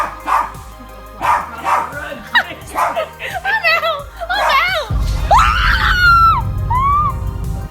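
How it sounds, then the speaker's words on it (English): A dog barks and yelps repeatedly in sharp, excited bursts, close by, with a low rumbling noise building underneath partway through. "the dog keeps barking for a while"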